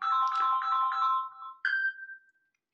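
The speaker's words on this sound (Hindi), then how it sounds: "मैं चाहती हूँ कि जब भी इनका कॉल आए तो ये वाला रिंगटोन बजे" A short electronic ringtone on a Samsung Galaxy S24 plays a bright chiming melody, ending on a single sustained tone that fades out.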